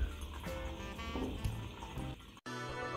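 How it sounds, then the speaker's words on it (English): Harvest Super Unleaded 97 petrol is poured into a fuel container with a continuous gurgling, splashing flow. The flow stops abruptly near the end and then resumes briefly. "I'll pour this into my fuel container."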